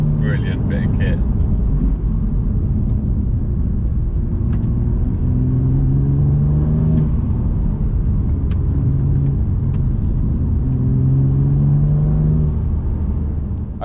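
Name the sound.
BMW M2 Competition car engine revving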